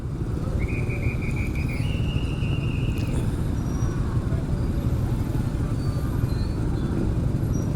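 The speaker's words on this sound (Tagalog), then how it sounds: "Traffic." Road traffic on a city street in Masbate City, a steady dense rumble of engines with a passing higher tonal whine near the start, continuous and fairly loud throughout.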